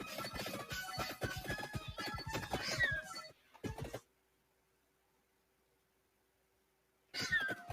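Cats fighting in the PC game Vampire Hunters, with loud overlapping yowls and hisses in a busy burst, a short second burst, then near silence before another snarl at the end.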